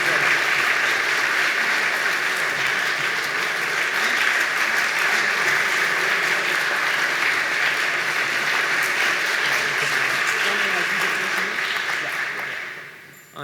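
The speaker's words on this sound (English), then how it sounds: "welcome him with a round of applause" Sustained audience applause welcoming a medal and award recipient at a legal history evening event, dense and steady throughout, fading out at the very end.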